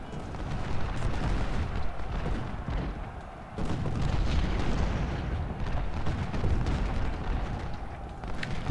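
Civil War musket volleys roll and rumble continuously in Ultimate General: Civil War at the battle of Malvern Hill, a dense, low booming barrage with a brief lull midway before the firing swells again, no voices over it.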